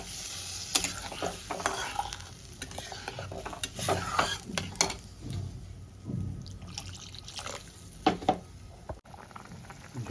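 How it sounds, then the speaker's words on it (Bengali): Curry broth with potato and chana dal comes to a rolling boil in a pot over a raised gas flame, with bubbling and irregular clinks and stirring scrapes close by. "ঝোলটা আমার ফুটে গেছে, দেখো কি সুন্দর টকবক টকবক করে।"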